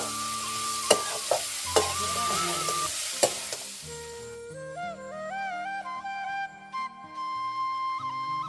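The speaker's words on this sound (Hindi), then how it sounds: "चलो फिर आग जलाते हैं चूल्हे में और सब्जी चढ़ा देते हैं" Vegetables sizzle and fry in a pot on a wood-fired clay chulha, a steady close hiss broken by sharp stirring knocks before the sizzle fades under other tonal sounds.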